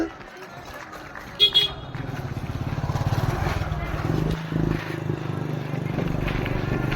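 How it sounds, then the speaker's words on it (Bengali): A motorbike rolls past on a road in Model Town, its low engine drone building and holding close and fairly loud for several seconds, with voices speaking over it. "বাইক আসছে"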